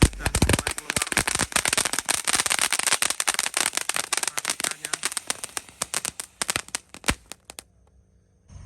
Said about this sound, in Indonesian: kita nyalakan mercon kerucut terbesar pin 3